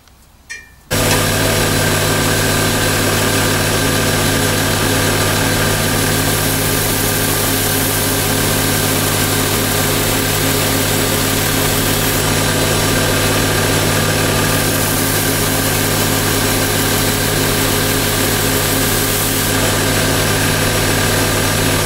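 Belt grinder running through grits from 80 up to 600 to sand and polish two knife blades, a loud continuous motor hum with a steady rasping grind that starts abruptly after a brief pause, no talk.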